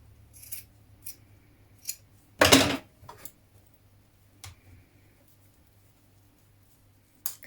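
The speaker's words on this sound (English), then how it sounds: "then we can snip away that excess in the corner" Scissors snip away excess fabric at a sewn cardigan pocket corner: a handful of crisp, close cuts, one louder and fuller, spaced out among quiet pauses.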